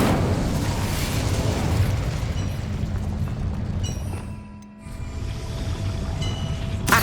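Incendio fire spell cast in the Hogwarts Legacy video game, a loud roaring burst of flame over dense game effects, briefly dipping before the blaze swells again.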